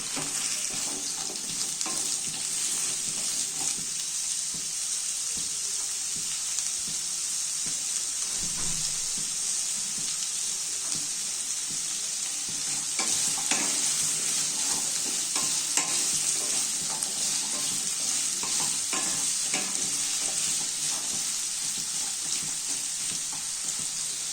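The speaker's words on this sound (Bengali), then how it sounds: "প্রথমে ভালো করে আলুগুলোকে ফ্রাই করে দিতে হবে" Potatoes fry in a pan for Bengali alu capsicum posto, a steady close sizzle with frequent stirring scrapes and faint water-like hiss running throughout.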